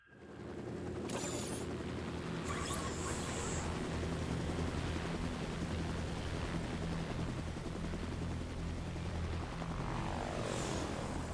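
Helicopters in the anime Pluto, a loud continuous rotor and engine drone that holds steady from start to finish, with faint higher tones briefly rising above it.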